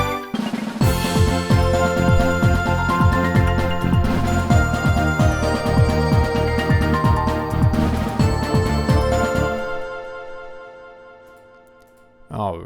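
Composed title-screen music loop for a video game plays as a dense, full arrangement with a steady rhythmic pulse, loud and continuous before thinning out and fading into a quiet tail near the end.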